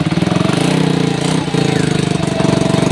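A small engine runs after its carburetor has been cleaned and refitted, a loud, rapid pulsing putter heard up close with a steady idle rhythm and slight dips.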